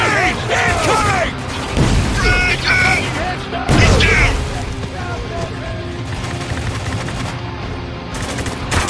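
Heavy gunfire and a grenade in Spec Ops: The Line, a loud continuous battle of rattling automatic bursts and booming impacts, with soldiers shouting over the din.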